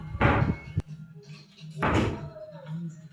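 A hotel room door in Boracay that does not fully close makes two thudding knocks or bumps about a second and a half apart, fairly close, with a faint low hum beneath.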